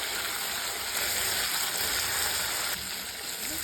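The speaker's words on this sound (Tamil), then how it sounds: "வெங்காயம் தக்காளி நல்லா வதங்கிடுது." Onions and tomatoes sautéing in a pan for a Tamil kulambu, a constant close, loud sizzle with no pauses.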